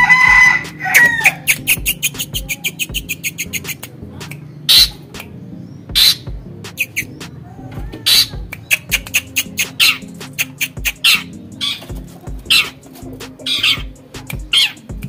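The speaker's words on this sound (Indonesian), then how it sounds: "Ini burung dewasa ya, usia hampir 2 tahun lebih ya, karena sudah nyisik ya." An adult long-tailed shrike, nearly two years old, calls loudly and close by in rapid repeated bursts of sharp, harsh chattering notes with short pauses between runs.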